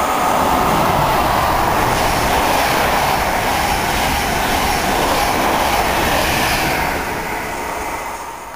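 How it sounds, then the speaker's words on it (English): A London-bound Mark 3 passenger train thunders through a station, a loud steady roar and rattle that holds for several seconds before easing as it passes. "got a London bound Mark 3 set now, about to thunder through Needham Market Station"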